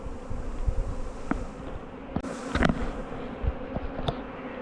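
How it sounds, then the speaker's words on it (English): Honey bees buzzing steadily around their hives as they return with honey supers set out for cleaning, a dense close hum with occasional louder passes near the microphone, wasps also about. "Listen to the bees."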